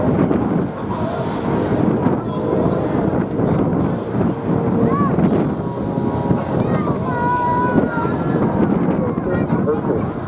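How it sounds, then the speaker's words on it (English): A Lockheed Martin tactical transport aircraft, first produced in 1956, flies at the Marine Corps Air Station Beaufort airshow; a steady engine roar and drone fills the whole stretch, close and loud, with wind buffeting the microphone and a voice speaking over it. "It was designed as a tactical transport aircraft, capable of lifting heavy payloads both into and out of short or unapproved airstrips"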